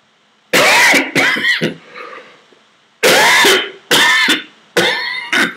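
Several sharp, loud coughs in two clusters, a pair early then three more bursts later, from a speaker during an Italian Bible lesson, with quiet gaps between them.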